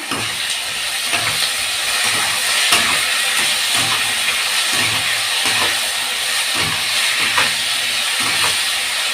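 Green chillies and tomato sauce cook in a pan with a loud, continuous hiss and sizzle, punctuated by a regular rhythm of soft stirring strokes throughout.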